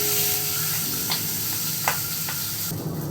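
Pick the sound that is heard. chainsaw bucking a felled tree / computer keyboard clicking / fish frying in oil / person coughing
fish frying in oil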